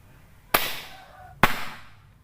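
Two sharp air rifle shots from a power unit charged to 2000 PSI crack out about a second apart, each a loud, sudden report trailing off into a short hiss, with no talk between them.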